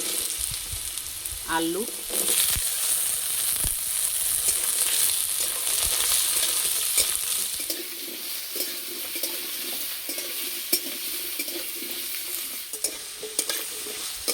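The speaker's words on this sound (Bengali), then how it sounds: "এই সবজিগুলো ভেজে একটু নরম করে নেব।" Radish, carrot and potato frying in hot oil with dried red chilli, a steady loud sizzle with stirring scrapes throughout and a brief spoken word early on.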